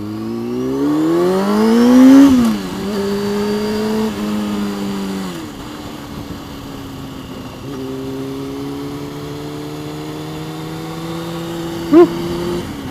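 A motorcycle on a rough country road in cold weather accelerates hard, its engine note climbing steeply before dropping through gear changes, then holding a steady droning pitch, close and loud, with a brief sharp bump near the end.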